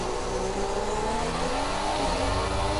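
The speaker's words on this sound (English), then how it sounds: "This Honda engine sounds very, very good indeed." A McLaren Honda Formula 1 car in F1 2016 revs hard and continuously, its engine holding a loud, steady high-pitched whine throughout.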